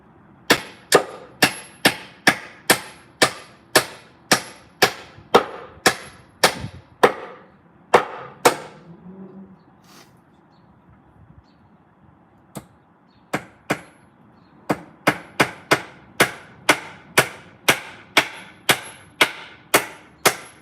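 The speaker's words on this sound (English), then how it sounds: "Now try and hammer it back up." Steady, rhythmic hammer blows on a bent nail being hammered back, sharp and close, with a short pause midway before the regular strikes resume.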